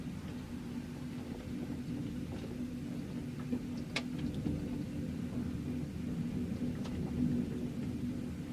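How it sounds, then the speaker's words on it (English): Distant thunder rolls as a low continuous rumble through a storm at a farm, a steady dull roar that swells slightly at times, with a couple of faint sharp ticks and no voices. "hear in the distance the thunder"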